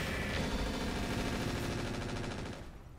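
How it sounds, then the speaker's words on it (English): Mech weapons fire together in the Roguetech video game, a dense continuous barrage of rapid gunfire and booms that rolls on loudly before tailing off at the end. "Let's shoot this guy up, firing everything."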